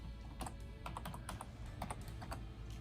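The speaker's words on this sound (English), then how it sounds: "Look at me typing one-handed." Someone typing one-handed on a computer keyboard, a quiet irregular patter of individual key clicks, close and alone in a still room.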